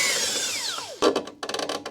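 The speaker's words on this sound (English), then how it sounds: "I'm going to take out the bottom bolt." A power tool removes the bottom bolt of the anti-roll bar on an MX5 Miata suspension, its motor whine falling away, then sharp close rattling bursts of impact hammering, with no talk.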